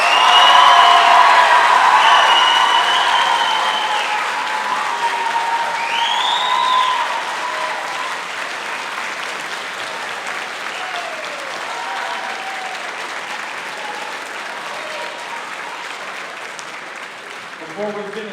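Sustained audience applause fills a hall at a high school band spring concert honoring graduating seniors, loud at first and gradually tapering off over many seconds, with a few cheers mixed in.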